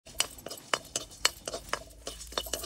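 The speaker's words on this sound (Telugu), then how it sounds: "ఇవన్నీ వేసుకొని శుభ్రంగా కలబెట్టుకోవాలి" Whole spices (about ten cloves, coriander seeds, a small piece of cinnamon bark and bay leaf) being dry-roasted in a pan for a village-style chicken curry, heard as a steady run of close, bright clinks and scrapes from a stirring spoon.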